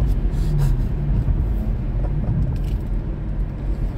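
A car driven at about 60 on a race track during a track day, with a steady, close engine rumble and road noise that holds constant throughout.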